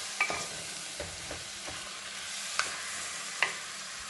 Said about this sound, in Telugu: ఆనియన్స్ బాగా వేగాక కడిగి పెట్టుకున్న చికెన్ని వేసుకోవాలి.